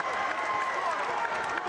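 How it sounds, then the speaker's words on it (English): Basketball arena crowd cheering for Alabama late in a close game against Minnesota, a continuous dense roar of many voices filling the hall with no breaks. "this entire crowd now outside of Minnesota fans are cheering on Alabama"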